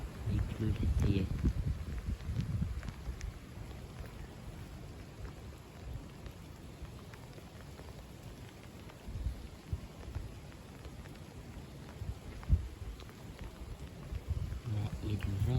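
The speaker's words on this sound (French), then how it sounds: "Il pleut, ça y est." A March squall brings a steady, fairly quiet rain shower hissing on surfaces, with a few heavier bursts and gusts of wind near the start and end.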